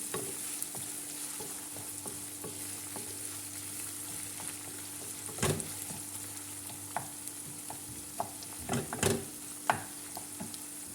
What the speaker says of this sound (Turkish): Bir çay kaşığı pul biber ve şöyle çok azıcık karabiber ilavesi de yaptıktan sonra yeniden karıştırıyorum.